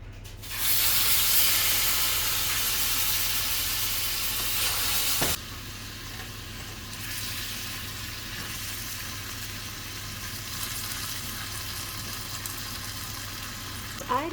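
Marinated beef for orange beef hits a heated pan with a loud, bright sizzle for about five seconds, then settles into a quieter, steady frying hiss.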